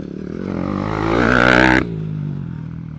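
A motocross motorcycle engine revs hard and close, its pitch climbing for under two seconds before it cuts off sharply and settles into a lower, steady running drone.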